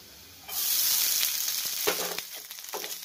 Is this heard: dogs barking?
no